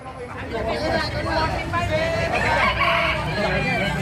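Roosters crow and hens cluck amid a busy murmur of people talking nearby, the bird calls mixed into constant chatter; native chickens, including a Brahma.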